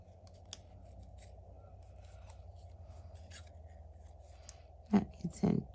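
Scissors snip out the paper tabs of a Rolife DIY miniature flower house kit. A few quiet crisp cuts come close up over a soft background hiss, with a louder pair of snips near the end.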